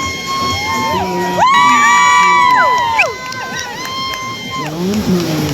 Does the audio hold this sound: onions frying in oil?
no